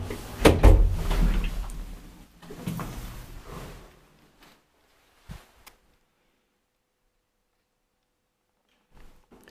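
An old ValmetSchlieren traction elevator in an apartment building slides its doors with a rumbling, clattering run for about four seconds, then a couple of brief knocks and near silence with a faint bump at the end.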